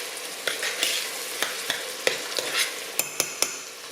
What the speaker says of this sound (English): Let those onions brown just a little more.